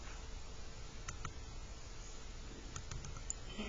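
Keys tapped on a calculator while entering a 3 by 4 matrix: a few sparse, faint clicks scattered over a steady background hiss.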